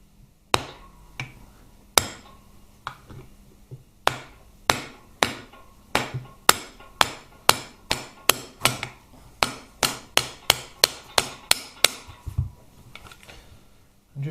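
Small nylon hammer tapping a shaft on a Harley-Davidson Twin Cam 88ci engine during a strip and rebuild, a long run of sharp, evenly spaced close knocks that speed up gradually over a faint hum.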